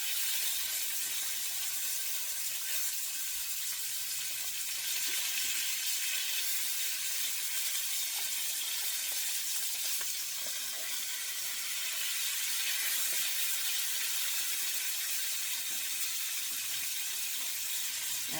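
Steak bites searing in a hot pan for gnocchi steak bites, a steady loud sizzle and hiss that holds through the whole stretch with no talking.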